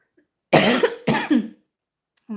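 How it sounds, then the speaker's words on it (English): A woman coughs twice in quick succession during a live makeup stream, loud and close, in a quiet room, with a short vocal sound at the end. "I'm starting to cough on live"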